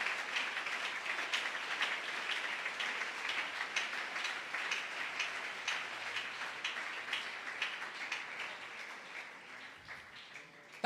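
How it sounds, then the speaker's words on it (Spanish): A church congregation claps together in a steady, dense wash of applause that holds evenly from start to finish, close and full with no voices standing out. "Si ese aplauso es para mi Cristo, dáselo con el alma."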